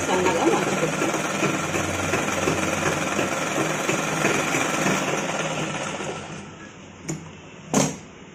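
A sewing machine runs steadily, stitching a narrow folded seam on a child's frock, its continuous mechanical whir stopping near the end and followed by a couple of short clicks and knocks.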